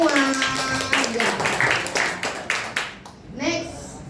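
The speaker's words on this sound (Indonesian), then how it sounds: "tepuk tangan untuk Miss Dancer semua" Short bursts of hand clapping from a school group greet a participant called Miss Dancer, with the claps mixed under ongoing chatter and voices.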